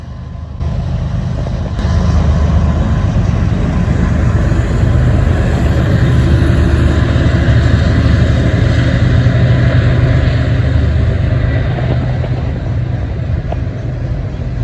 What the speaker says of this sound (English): caught a CSX loaded coal train crossing the bridge